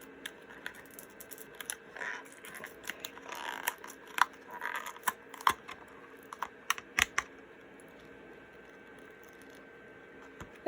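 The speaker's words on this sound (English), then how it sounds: "peel this tape over carefully" Tape peels carefully off a Compaq AC adapter casing in a scattered series of soft crackles and sharp little ticks, close and fairly quiet.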